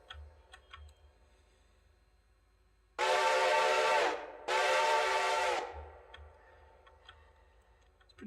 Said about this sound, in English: I do like that it blows the whistle though.